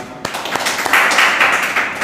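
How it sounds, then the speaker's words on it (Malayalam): An audience at a speech-practice session claps together, a close burst of applause starting sharply and holding steady for about two seconds. "ഓക്കെ, ഒരു ക്ലാപ്പ്."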